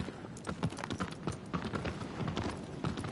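Horse hooves in Shadow of the Colossus clip-clop at a quick, steady pace, close and moderately loud, against a busy background of game noise.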